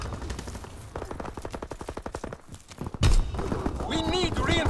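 Rapid automatic weapon fire from a Call of Duty WWII Team Deathmatch match on the Shipment 1944 map, steady fast bursts for a few seconds, then a loud blast with shouted voices and game noise over the top.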